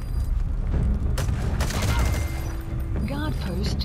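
Rapid gunfire bursts and heavy booms from the stealth shooter Metal Gear Solid 5, a loud chaotic volley of shots and impacts layered over game effects, with a voice talking briefly near the end.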